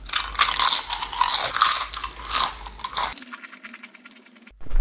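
Loud, crisp crunching and biting of a spicy chip in a one chip challenge, a dense run of close crackling bites for about three seconds before it thins out, with a brief final burst at the end.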